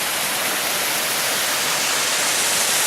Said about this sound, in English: And this is Lower Bonita Falls. And that's the big drop.